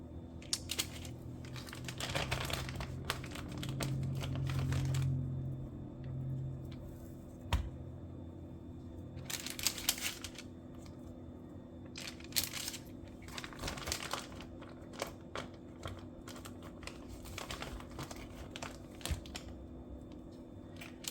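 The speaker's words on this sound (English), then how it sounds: "I'm going to line my bacon on this parchment paper" Bacon strips are laid out on crinkly parchment paper in a kitchen, with intermittent soft rustling and crackling bursts separated by quiet gaps over a faint steady hum.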